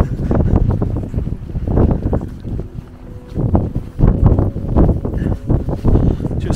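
Gusts of wind buffet the microphone outdoors on a remote road in the Outer Hebrides, a loud, low rumbling roar that surges and eases in uneven bursts.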